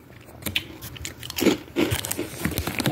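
Close, loud crunching and chewing of crispy cheese curls, several crackly bites in quick succession.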